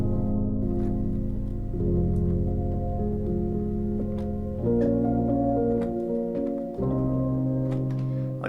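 A dark, sustained piano melody from the Keyscape Dark Score instrument plays slow, low chords that change every couple of seconds, with soft, ringing upper notes over them and no voices.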